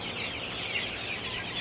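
Sonali chickens on a poultry farm cluck in a steady, continuous chorus at moderate volume, a dense flock murmur with no talking.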